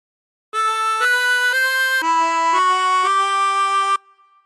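A chromatic harmonica plays a melodic phrase of the Star Spangled Banner, seven clean sustained notes stepping up then down, loud and close, with no talk.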